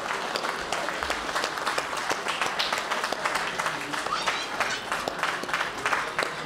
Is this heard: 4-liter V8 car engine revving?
no